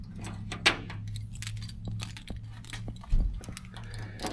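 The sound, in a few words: bunch of car keys jangling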